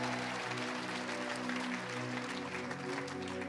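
A church congregation at a worship night applauds under sustained music, the clapping soft and continuous beneath held organ-like tones throughout.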